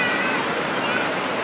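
Waves roll in on a beach in a loud, steady wash of surf that fills the short stretch without pause.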